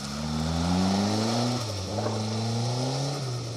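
A historic rally car passes on a night special stage, its engine note loud and steady with pitch shifts as it changes gear, rising and falling across a few seconds of continuous roar.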